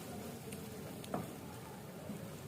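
Marinated fish curry ingredients with ginger-garlic and turmeric are sautéed in a pot, giving a faint, steady low sizzle and one brief stir or scrape partway through.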